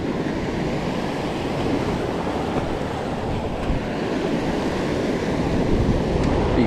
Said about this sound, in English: Got a little bit of a gully down here where the water's washing.